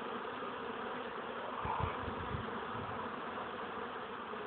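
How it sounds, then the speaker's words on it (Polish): Steady, dense buzzing of many honeybees at a hive fills the clip at a constant level, with a brief louder low hum passing close by near the middle. "Pszczoła jest widać wspaniała."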